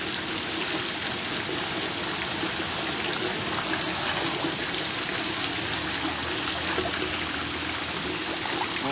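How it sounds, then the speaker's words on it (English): A garden fountain shaped like an egret spits a stream of water into a pond, fed by a recirculating pump; the splashing trickle runs continuously and steadily, close and fairly loud, with no talking. "It's an egret spitting water, and what's cool is that there's a pump in the water and it just recirculates in the pond."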